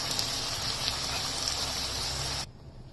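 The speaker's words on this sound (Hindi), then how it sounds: "यहाँ पर हम थोड़ा सा इसमें पानी डालेंगे" Water poured into a covered pan of peas and tomatoes for a matar mushroom curry, a steady splashing gush for about two and a half seconds that stops abruptly into near silence.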